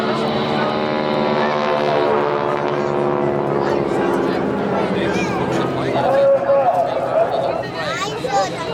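Propeller engine of a wing walking display plane at an airshow in Blackpool, a loud sustained droning roar with shifting pitch, heard under a commentator's voice.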